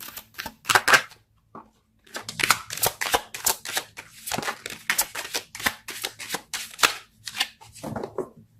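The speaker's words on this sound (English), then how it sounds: "Let's pull a card for your mental space." Tarot cards are shuffled in quick irregular bursts of crisp riffling and slapping, close and clear, with brief pauses between flurries as a card is drawn; no talking.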